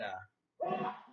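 A short, sharp sneeze bursts out nearby after a brief pause, following the tail of a quiet voice.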